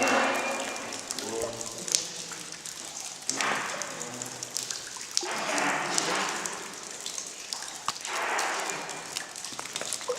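Water dripping and flowing inside the Donner Summit railroad tunnel, a broad splashing, trickling wash that swells and fades in waves with scattered sharp drips, echoing in the enclosed space.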